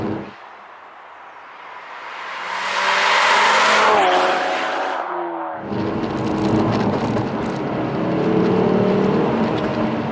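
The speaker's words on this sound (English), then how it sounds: "that Miltech exhaust, the catback system, the pops and the crackles, that's definitely not synthesized" A Mk3 Ford Focus RS Mountune engine roars and revs up close, cuts off sharply, then comes back with a rough burst of popping, crackling exhaust from a Milltek cat-back system.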